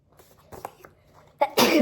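Quiet talk fades, then a loud, close sneeze bursts out near the end, sharp and breathy.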